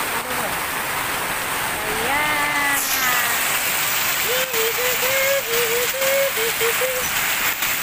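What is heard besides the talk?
heavy rain pouring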